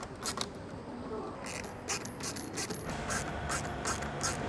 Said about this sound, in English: take your 8mm Allen key and your 10mm ratchet spanner or similar and tighten